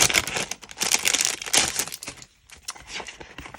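A paper pack of craft ephemera is handled, giving bursts of close, crisp crinkling and rustling that pause briefly near the end before resuming more quietly.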